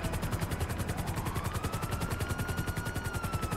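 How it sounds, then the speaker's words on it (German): Maverick helicopter in GTA 5 on PS3, a steady rapid rotor chop with a whining engine tone, fairly quiet and unbroken, no talking. "Maverick heißt das. Maverick Hubschrauber."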